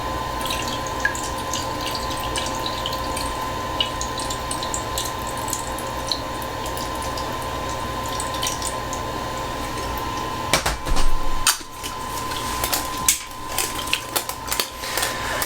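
Film developer poured into a developing tank at 100 degrees Fahrenheit, a steady faint liquid trickle running for about ten seconds, followed by scattered clicks and sloshing knocks.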